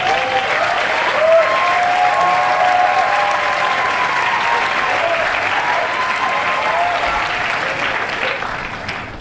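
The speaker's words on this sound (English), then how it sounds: "Round of applause for Nworah." A commencement audience at Harvard Medical School claps for a student speaker in a large, sustained round of applause that holds steady and then tapers slightly toward the end.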